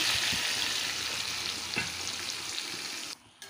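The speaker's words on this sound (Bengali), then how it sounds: "এখন এই কড়াইয়ের মধ্যে আমি মাছটাকে দিয়ে দিলাম।" Small fish sizzle and fry in hot oil with chopped onion in a wok, a steady close crackle with a few soft stirring knocks, dropping away briefly at the end.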